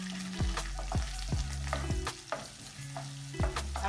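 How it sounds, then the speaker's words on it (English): Garlic sautéing in a pan for lemon pepper chicken, stirred with a utensil: steady close sizzle broken by a rhythmic series of sharp scraping strokes, roughly every half second, with no voices. "Time for sauteing all these ingredients. First, we will put the our"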